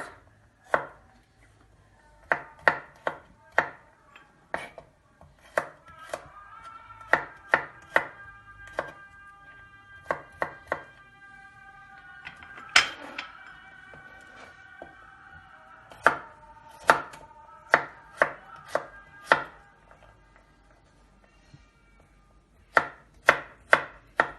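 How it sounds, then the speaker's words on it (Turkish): A knife chops garlic rapidly on a cutting board in quick bursts of sharp taps, pausing briefly between runs, with no talking. "Şimdi de sarımsaklarımızı doğramaya başlıyoruz."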